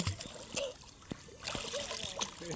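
Water splashing from people swimming in the Dharla river, a run of irregular nearby splashes and slaps with a steady watery wash between them, while people's voices call out over the top.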